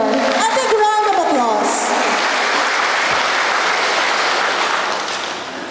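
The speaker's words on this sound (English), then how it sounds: "applause" A crowd at a Philippine public event for Congressman Teodorico Haresco Jr. in Aklan breaks into loud, steady applause, with a voice over it at the start, before the clapping gradually fades near the end.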